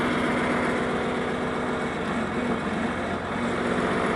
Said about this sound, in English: Okay, tractor, go.